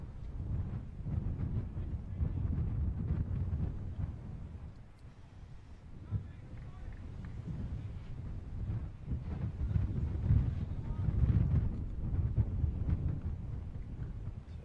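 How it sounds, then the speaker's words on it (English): Strong gusts buffeting the microphone at a cricket match at No. 1 Sports Ground, a loud low rumbling roar that surges and eases throughout, with no clear voices. "it is very windy here at number 1 Sports Ground"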